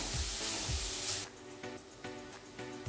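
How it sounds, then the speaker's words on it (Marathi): Grated beetroot sautéed in ghee over a gas flame, giving a soft, steady hiss and sizzle with a few brief rustling stirs. No voices. "हे जे बीट किसलेलं आहे का, हे आपण याला अगोदर परतून घेऊ थोडंसं"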